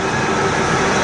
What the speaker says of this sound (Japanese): これが私が乗る、坂田行きの、列車になります。